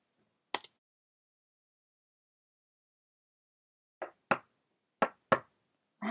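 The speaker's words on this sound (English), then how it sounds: "I hear some knocking at the south entry." Knocking at a door: a quick double rap, a long silence, then two more pairs of sharp knocks and the start of another, crisp and fairly close with nothing else heard.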